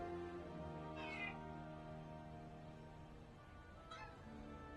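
A cat meows twice in World of Warcraft, two clear rising-falling calls about three seconds apart over a steady tonal game hum, fairly faint and with no talk.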